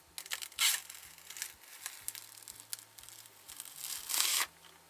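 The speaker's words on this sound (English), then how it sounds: "Now let me remove this plastic cover on the scale." A plastic protective film is peeled off a digital kitchen scale, producing close crinkling and tearing rustles in irregular bursts, with a louder rip near the end.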